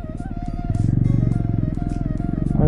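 A Jawa 42 motorcycle engine running at low speed during parking, a steady, close, rhythmic thumping idle that swells slightly toward the end.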